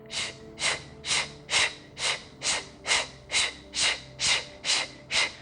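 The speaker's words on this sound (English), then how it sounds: "For these last few rounds, try to pump the belly as fast as you can." Rapid forceful breaths pumped from the belly during an intense yoga flow, about a dozen sharp, evenly spaced nasal exhales close to the listener, with no talking.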